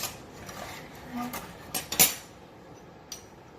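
Kitchen tongs clink against dishes while honey nuggets are prepared, a few sharp metallic taps clustered together over a quiet background, fairly close and brief.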